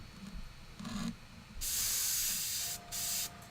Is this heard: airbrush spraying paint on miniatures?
yes